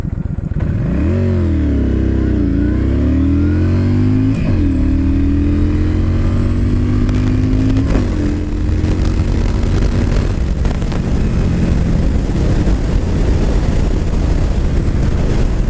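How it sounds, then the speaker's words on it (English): A Yamaha Stryker factory chopper with a 1300cc V-twin idles and then revs up repeatedly, its pitch sweeping up and down in loud, close throttle blips before settling into a steady, rumbling run with occasional clatter. "That 1300 cc's, a very well-balanced engine in my opinion."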